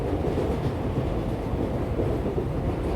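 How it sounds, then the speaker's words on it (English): Train wheels rolling along the rails, a continuous low rumble with a soft, even clickety-clack, heard from inside a carriage, steady and moderately loud with no voices. "The rhythmic sound of the wheels of the train blend with the scenery"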